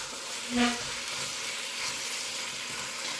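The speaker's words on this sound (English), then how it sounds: "get it all stirred in and get the peppers and the onions incorporated in it as well" Ground chuck with sautéed peppers and onions in olive oil sizzles steadily in the pan as it is stirred, with a short scrape early on and a continuous close frying hiss.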